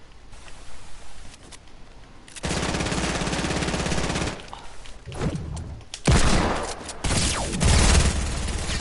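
Rapid bursts of hand cannon gunfire in a video game, loud and repeated in several volleys with short pauses between them and no talk over the shots.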